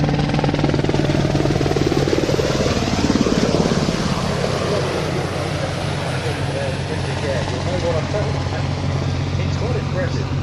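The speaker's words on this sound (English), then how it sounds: "These helicopters, when they were in RAF service, provided 24-hour search and rescue cover" A former RAF search and rescue helicopter, a heavy machine of about 7.5 tons, hovering nearby with a loud, steady rotor and engine roar and a throbbing low hum, under a voice talking.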